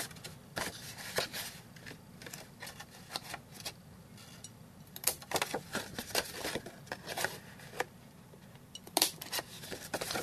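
Corners of a handmade Valentine card being rounded with a punch or trimmer, giving a series of sharp clicks and snips scattered irregularly over a quiet, close background, with no talking.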